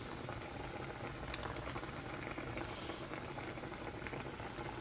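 Pieces of chicken fry in hot oil, giving a loud, constant crackling sizzle that bubbles close up for several seconds without pause and with no speech over it.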